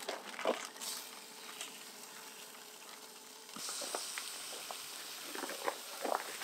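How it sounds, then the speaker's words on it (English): Bacon frying in a pan, a quiet close sizzle with soft crackles and pops that grows slightly fuller partway through and continues steadily. "The bacon's cooking fine there, look."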